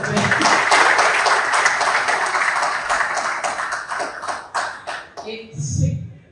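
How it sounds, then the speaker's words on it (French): Audience clapping at a French award ceremony as an honoree comes forward, dense sustained applause that thins out toward the end, with a voice speaking briefly over it. "je vous demande de l'applaudir s'il vous plaît."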